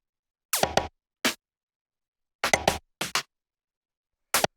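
Sparse percussion samples from a minimal deep tech track, several short, sharp scratchy hits in irregular bursts separated by silence, close and dry with no talking.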